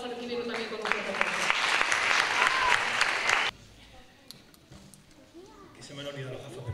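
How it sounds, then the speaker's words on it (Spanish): Applause for the sports councillor at a 2018 sports awards gala, a dense burst of clapping that stops abruptly partway through, after which a voice is heard. "Vamos a recibirlo también con un fuerte aplauso"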